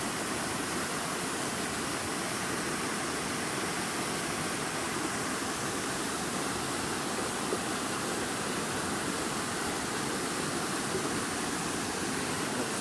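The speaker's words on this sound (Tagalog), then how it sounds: "Nagsama na sila kaya malaki na yung ilog." A river swollen after a typhoon rushes in a constant broad roar of churning water, steady and enveloping with no breaks or voices.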